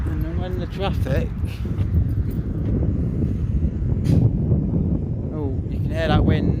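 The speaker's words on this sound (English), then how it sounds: "oh, you can hear that wind" Wind blowing across an open farmer's field on a gusty day, a steady low roar buffeting the microphone while a person talks over it throughout.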